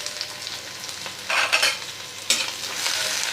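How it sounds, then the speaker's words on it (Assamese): Onion and garlic sizzle and crackle in a pan over a lowered gas flame, with bursts of louder frying as the pieces are stirred and no voices. "প্ৰথমতে মই প্লেটত থকা পিঁয়াজ নহৰু এইখিনি ভাজি ল'ম।"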